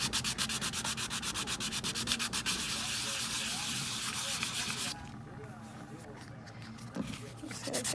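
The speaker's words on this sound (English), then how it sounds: "So I'm gonna lay it flat on the sandpaper like this." An epoxy-free popsocket made with Crystalac, rubbed flat against sandpaper in fast rhythmic back-and-forth strokes, loud and close, then easing into quieter, steadier scraping before brief rubbing resumes near the end.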